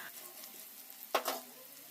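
Onion fries in a pan for semiya upma, a faint, soft sizzle broken by a sharp stirring scrape and clatter partway through, close up, with no speech.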